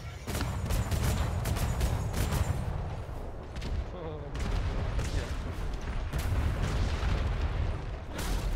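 A ship's cannon barrage in the naval video game Atlas, aimed at a galleon, comes as a long run of booming shots that overlap into a continuous rumbling fusillade with sharp cracks on top, loud and close throughout.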